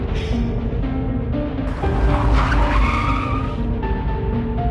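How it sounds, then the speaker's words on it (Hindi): A cartoon tractor skids to a stop with a loud, continuous tire-squeal screech over rumbling engine noise, the squeal swelling and shifting pitch midway before holding steady to the end. "सभी लोग ट्रैक्टर से बाबा के घर की तरफ जाने लगते हैं।"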